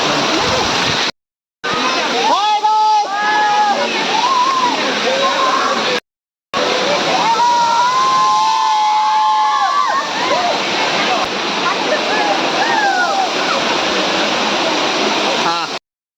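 The Sirimane waterfall in summer rushes loudly and continuously, with nearby voices rising over the roar, broken by two brief dropouts.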